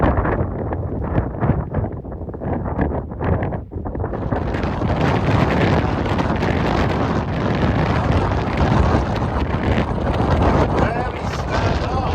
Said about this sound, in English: It's always cool up there. It's really windy, but it is very beautiful.